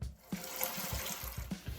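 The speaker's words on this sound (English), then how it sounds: "And while that water's filling up" Tap water runs into a pot being filled for brewing a blonde ale, a steady close rush of flowing water with a few soft knocks and clunks along the way.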